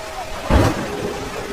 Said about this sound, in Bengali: অঝোর ধারায় বৃষ্টি নেমেছে।